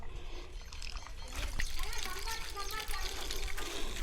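Water rushes and splashes steadily through a fertigation drip-irrigation line after a valve is opened, a continuous close, broadband flow with faint voices in the background.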